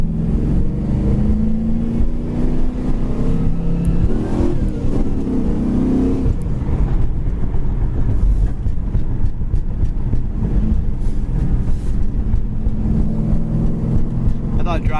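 A 1997 Pontiac Trans Am with a 6-speed manual accelerates with engine roar and gear changes, the loud exhaust droning and rising in pitch steadily under road noise throughout.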